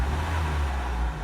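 A Nissan B14 with a GA16DE engine running on Megasquirt idles steadily, a low continuous rumble holding an even level throughout, close and without speech.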